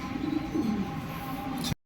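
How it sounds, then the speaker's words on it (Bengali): Large Mianazir teddy pigeons coo softly in a loft, a low continuous murmur of cooing close by and faint, without talk. "মিয়ানাজির টেরি যেটা সাইজে বড় বিগ সাইজের এবং সুন্দর শেপের কবুতর"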